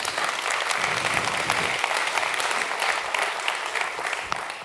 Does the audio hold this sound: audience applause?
yes